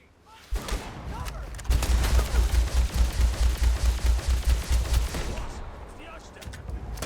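Sustained rapid gunfire in a firefight from the video game Starfield, a loud rhythmic burst of automatic shots pulsing steadily for several seconds after a sharp opening shot, then tapering off, with voices mixed underneath.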